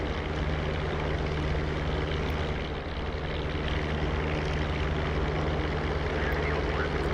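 A P-47 Thunderbolt propeller fighter climbing in the DCS flight simulator, its radial engine a steady, loud droning roar with a constant low hum throughout.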